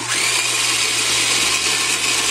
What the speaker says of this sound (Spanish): entonces están batiendo las claras